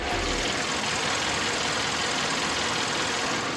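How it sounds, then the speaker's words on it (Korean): A Hyundai Grandeur gasoline engine idles with the bonnet open, giving a steady, smooth, continuous hum and hiss recorded close up, with no talking over it. "영상으로 엔진 소음 한번 담아보도록 하겠습니다"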